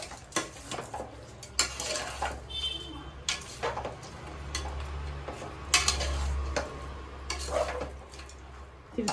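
A utensil stirring food in a cooker pot, irregular scraping and clinking strokes against the metal, close and moderately loud, with a low hum underneath.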